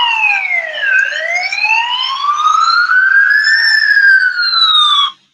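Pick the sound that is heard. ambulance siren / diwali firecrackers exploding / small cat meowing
ambulance siren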